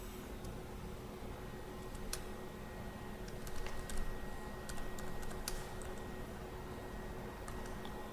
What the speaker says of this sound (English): I'm going to be typing in the functions that I want to